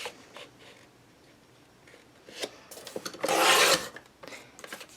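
Paper cut and rubbed for a large vintage-style scrapbook album, heard as close scraping and rasping strokes that rise into one loud sustained rasp before trailing off into lighter rustles.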